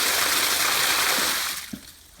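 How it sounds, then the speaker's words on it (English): Water rushing through a homemade filter to rinse out its inside, a close, steady gushing that tapers off into a few faint splashes. "use the water to actually rinse out the inside."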